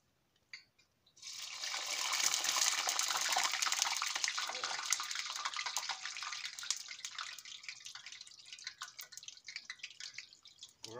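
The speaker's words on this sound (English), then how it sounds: "put your fries in the skillet and you're gonna fry them" Fries dropped into hot oil in a skillet set off a loud, bright crackling sizzle that starts suddenly after a short quiet moment and carries on steadily, easing slightly toward the end.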